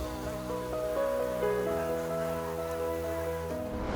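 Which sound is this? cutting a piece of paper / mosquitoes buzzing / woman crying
mosquitoes buzzing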